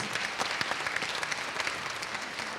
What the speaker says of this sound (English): So give yourselves a round of applause for being here at the festival and enjoying our films.